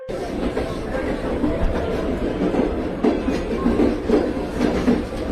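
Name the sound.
Dutch train carrying weapons passing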